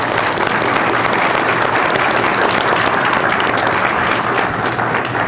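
An audience at a candidate forum held by a business association in Loudon, Tennessee, applauds in one steady, loud, dense wash of clapping that carries through unbroken from start to finish.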